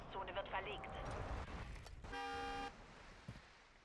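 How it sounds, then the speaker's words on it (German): A car horn in the Warzone 2.0 video game gives one sustained, steady honk of about half a second, mid-loud amid game noise, with a voice talking earlier in the clip. "Warum hat das Ding gehupt?"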